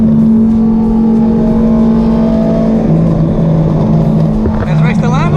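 Straight-piped BMW E92 M3 exhaust droning loud and close, holding a steady rev with a tone that shifts and climbs near the end.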